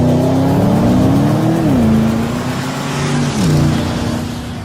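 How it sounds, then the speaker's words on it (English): A new Porsche Panamera Turbo S sedan drives laps on a race track, its engine droning steadily with pitch rising and dropping through gear changes, loud and continuous. "It was great fun to drive the new Panamera Turbo S"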